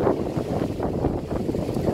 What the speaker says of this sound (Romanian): vai ce vânt bate.